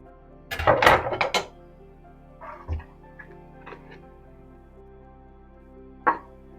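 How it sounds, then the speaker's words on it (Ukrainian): A knife chopping the last onion on a board while mushrooms are fried for a sour cream dish: a quick close run of sharp cuts, followed by a few scattered, fainter taps and clicks. "Я дорізаю останню цибулину"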